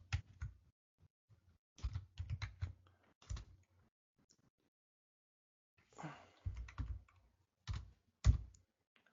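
Commands typed on a computer keyboard in short bursts of quiet, close key clicks separated by silent pauses.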